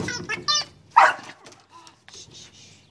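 A dog barks a few sharp times mixed with higher yips, close by, while a person's voice is heard talking between the barks.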